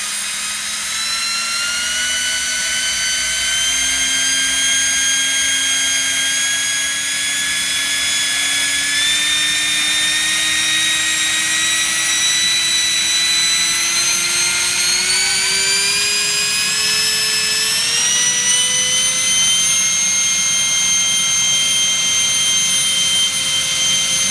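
A 600W brushless turbo fan motor whines loudly at up to 30,000 RPM on 16 volts, a continuous high-pitched scream that climbs gradually in pitch over a steady roaring airflow.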